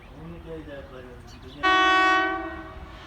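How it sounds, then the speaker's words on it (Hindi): The 18 Down Millat Express sounds a loud, steady horn as it departs a station in Pakistan, following a stretch of quieter background with faint tones. "यहाँ से डिपार्चर करेगी अपना 18 डाउन मिलता एक्सप्रेस।"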